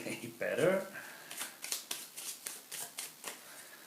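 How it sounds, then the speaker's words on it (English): Cards from the Affliction deck of the board game Apex being shuffled by hand, a louder riffle up front followed by a steady run of about ten short, evenly spaced card snaps, close and fairly quiet. "shuffle the Affliction deck. Maybe I need to learn to shuffle"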